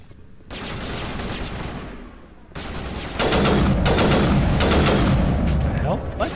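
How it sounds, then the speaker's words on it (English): Burst-firing gun in the video game Mass Effect, with loud repeated bursts of shots and booms that build and grow denser in the second half. "Why is this thing burst firing?"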